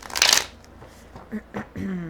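Tarot cards riffle-shuffled in one loud, dense burst near the start, followed by a few softer card taps and handling sounds, with a voice starting at the very end.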